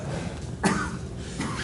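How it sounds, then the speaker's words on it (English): Two short allergy coughs, a louder one followed by a softer one, close up in a quiet room. "And I cough."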